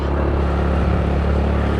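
Cross motorbike engine running steadily while riding a mountain road, a continuous loud low drone with constant harmonic hum and no talk.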